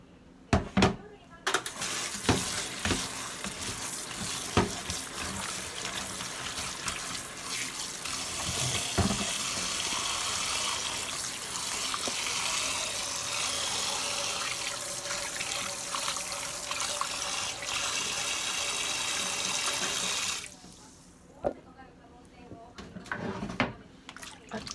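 Salted papaya is washed under a running kitchen tap, a steady rush of water splashing into a sink with dish clatter and a few knocks, starting and stopping abruptly. Someone talks briefly over it.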